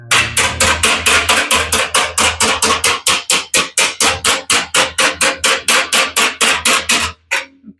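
Rapid, steady hammer blows ring out on heated sheet metal for a 1941 Ford two-ton truck cab, loud and close, around two dozen evenly spaced strikes that stop abruptly near the end.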